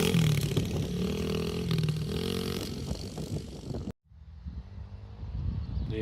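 A child's dirt bike lapping the same stretch, its small engine buzzing and revving loudly as it passes close by, then cutting off sharply before a lower, rougher engine note picks up again.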